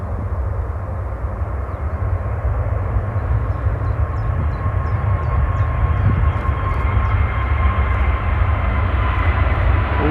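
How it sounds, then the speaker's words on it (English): A steady, loud jet engine roar of an airliner taking off at Manchester Airport builds and holds throughout, a broad rumbling whoosh with no voices, close by. "What a gorgeous, gorgeous plane."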